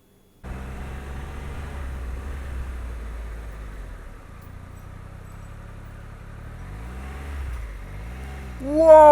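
A car drifts across the centre line while passing close to a cyclist on a road. Its engine drones steadily and nearby, then swells louder at the very end.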